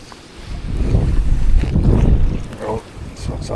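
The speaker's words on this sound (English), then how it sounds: "so it's that wind" Wind gusting on a riverbank of the River Tyne at Dilston during salmon fishing, a loud rumbling buffet on the microphone that swells and eases.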